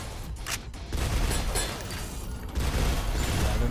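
Gunfire in the video game Synthetik, heavy and booming with dense repeated blasts and mechanical clatter, loud and close, swelling in intensity partway through, without speech.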